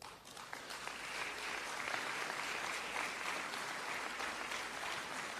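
An audience at a conference speech claps continuously, a dense, steady wash of applause heard from within the hall for several seconds.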